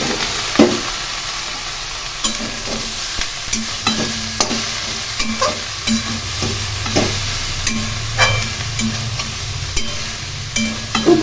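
Boiled soybeans stirred and fried in a pan, a steady sizzle under repeated scraping and clacking strokes of a spoon at a quick, irregular rhythm, close and moderately loud with no talking.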